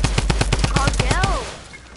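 Rapid bursts of video game gunfire crack out in a steady rhythm for over a second, then stop; a brief electronic whoosh sounds near the end as the noise fades.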